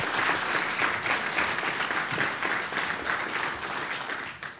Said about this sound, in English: So please welcome him to the stage with a round of applause, David Duggins.